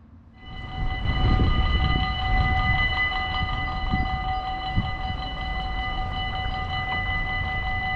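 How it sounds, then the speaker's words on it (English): Belgian class 96 electric multiple unit train passing at a station in the evening, a rising rumble of wheels on rails under a sustained multi-tone horn blast that holds steady throughout. "our first train of the evening is an electric multiple unit, class 96"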